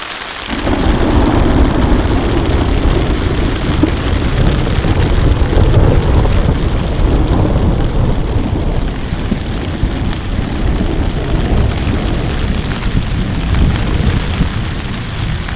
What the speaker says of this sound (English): if a DCF tent is noisy in the rain. This is a full-on Welsh thunderstorm.